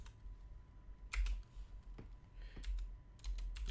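Clicks of typing on a computer keyboard come in short bursts of quick, close keystrokes with pauses between them, set against a quiet room with no voices.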